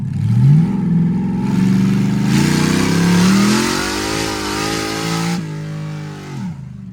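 A car engine revs hard and accelerates down a race track straight, the pitch climbing through gear changes, loud and close, then easing off near the end.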